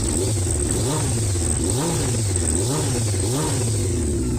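A Honda CBR 600 F3 motorcycle engine runs loud and close during carburetor synchronization, its four-cylinder drone swelling and falling in repeated rev blips over a steady high whine.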